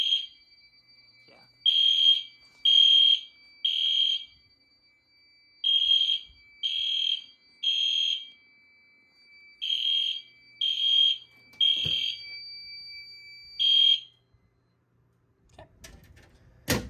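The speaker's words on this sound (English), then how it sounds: "I'm gonna pull the alarm from here" A building fire alarm system sounds after a pull station is activated, giving loud, steady horn-like bursts in a repeating pattern of grouped blasts. It stops abruptly, then a few clicks and handling noises follow.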